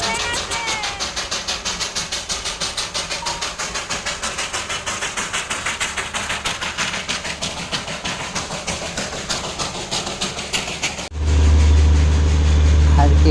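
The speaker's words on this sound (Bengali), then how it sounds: "এটা হলো স্টিম ইঞ্জিন।" Steam locomotive at Darjeeling: a steady, rhythmic chuffing engine sound runs close and loud for about eleven seconds, then gives way to a louder, even rumble.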